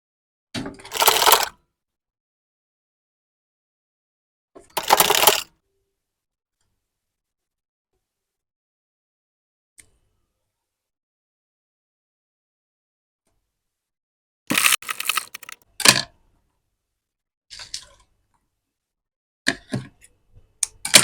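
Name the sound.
sewing machine sewing gown seam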